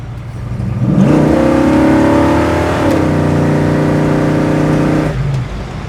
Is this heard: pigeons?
no